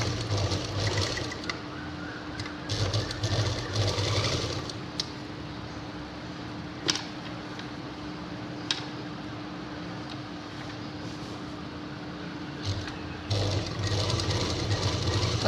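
Domestic sewing machine stitching a cloth purse at home, running in a steady continuous whir with rhythmic mechanical chatter that swells and eases in bursts, close and fairly loud.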